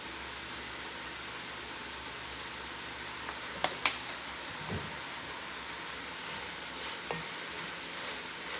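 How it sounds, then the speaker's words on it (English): Cabbage for corned beef and cabbage egg rolls wilts in a pan, giving a quiet, steady sizzle broken by a few sharp clinks and stirring scrapes. "I want to wilt this cabbage down just a little bit before we start adding some heavy flavors."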